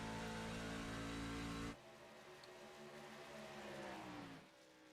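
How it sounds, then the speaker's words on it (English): Race truck engine at light throttle in a sim racing game: a loud, steady harmonic engine drone that suddenly drops after about two seconds into a quieter, softer hum with gently shifting pitch. "you can hear how soft he is on the throttle"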